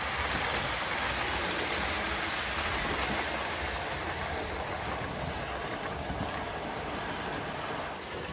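A model train rumbles steadily along its track with a continuous rolling clatter, close by and even in loudness throughout, with no talking.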